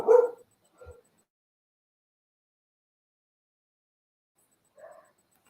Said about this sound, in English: mute and yell to him to stop barking